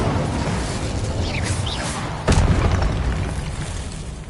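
An Incendio fire spell cast in Hogwarts Legacy, a brief whooshing rush followed by a sudden loud boom halfway through, set against a dense steady rumbling background.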